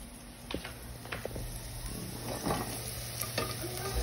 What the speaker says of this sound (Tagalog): ito po magluluto ako ng tilapia